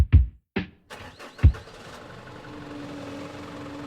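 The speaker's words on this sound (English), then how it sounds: "when I turned the keys, the engine caught with a stubborn little growl like it had something to prove" A car engine starts with a turn of the keys: a few sharp cranking thuds, then the engine catches and settles into a steady low idle.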